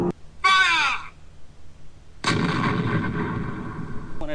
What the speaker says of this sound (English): the fire direction crew is choosing targets and directing the fire of the guns